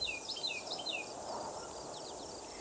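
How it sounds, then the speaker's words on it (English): Crickets chirp in a coastal Georgia marsh on Tybee Island, quick bursts of high trills that fade after the first second into a softer, steady background chorus, faint and distant. "the soft chirping of crickets"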